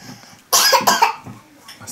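A single sharp cough from a child, close and abrupt, followed by softer breathy sounds.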